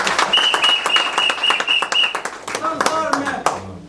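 An audience at a UDPS political gathering breaks into dense, steady clapping and applause, with shouts and voices mixed throughout the crowd noise.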